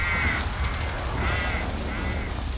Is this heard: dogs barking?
no